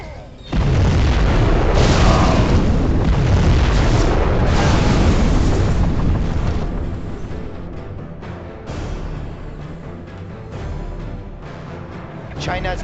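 Nuclear missile detonation in the Generals Zero Hour strategy game, a sustained loud roaring blast that rumbles heavily for several seconds before easing into a lower continuing rumble.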